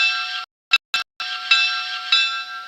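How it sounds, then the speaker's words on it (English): A model train sound decoder rings its bell in a steady, loud, continuous clang, briefly cut off with two short bursts before resuming, close and alone with no talk. "So, bell,"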